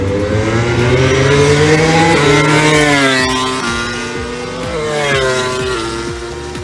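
MotoGP racing motorcycles scream past on a race circuit, loud high-revving engines rising and falling in pitch with gear changes as several bikes pass in succession.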